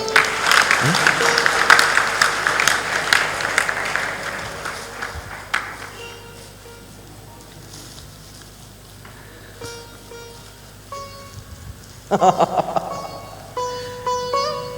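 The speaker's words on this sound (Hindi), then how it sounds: "जोरदार ताली बजा दो।" Loud, dense applause from an audience at a spiritual discourse fills the first several seconds, then thins into scattered claps with talk and some musical tones over it.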